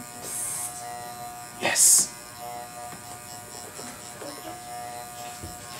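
Electric hair clippers cut a temple taper with a steady close buzzing hum throughout, briefly louder at one moment, while a person talks over the sound.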